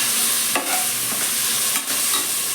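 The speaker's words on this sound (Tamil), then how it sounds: "பட்டாணி புலாவுக்கு வெங்காயம் தக்காளி நல்லா எண்ணெயில் வளர்ந்ததுக்கப்புறம்" Onions and tomatoes frying in oil for a peas pulao give a steady close sizzle, with a few louder stirring scrapes along the way. No one speaks.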